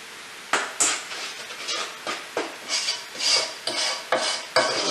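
Batter for a flourless chocolate cake is stirred hard in a bowl, making repeated scraping and clinking strokes in a fairly fast, uneven rhythm, close and alone.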